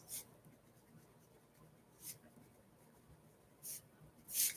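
Pen writing numbers on paper, a few soft scratchy strokes spaced irregularly over a quiet room background, faint and close.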